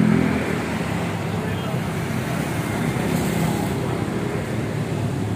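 Honda PCX 160 scooter with its original exhaust idling steadily nearby, a continuous low rumble holding level for the whole stretch with no voices over it.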